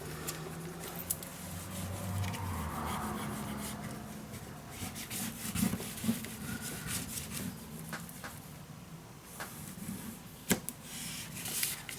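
Paper being burnished down with steady rubbing while making a secret storage book, quiet and close, with a few light taps and scuffs along the way.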